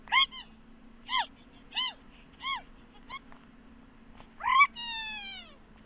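A Build-A-Bear plush toy gives a series of short high-pitched chirping electronic squeaks repeated about six times, the last one stretching into a longer descending tone, with a faint hum beneath.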